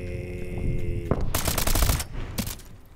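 Bursts of automatic gunfire in the video game Call of Duty: Advanced Warfare, loud rapid volleys that start after a second of ambient game music, with a final short burst near the end.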